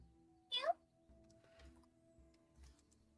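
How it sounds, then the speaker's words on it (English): A cat lets out a single short meow, loud and close, in a quiet room with a steady electrical hum and faint background movement. "I heard a cat."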